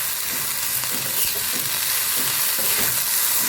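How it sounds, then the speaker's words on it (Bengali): Bitter gourd and onion fry in a pan with a steady, close sizzle, broken by occasional stirring scrapes and clicks; no voices. "এই উচ্ছে পেঁয়াজটা ভাজা করি"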